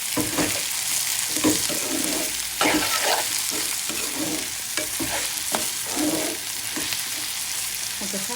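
Onion, tomato and salt fry in oil in a pan for a prawn bhuna, a constant bright sizzle broken by repeated scraping and clattering stirs of a spatula, close and steady with no speech.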